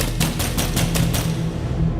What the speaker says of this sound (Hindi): कि तभी उनके कमरे के दरवाजे पर जोर जोर से दस्तक हुई